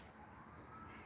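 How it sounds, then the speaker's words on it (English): Emergency vehicle sirens wail faintly in the distance, a brief, steady background tone with no speech over it. "And you can hear the sirens in the background."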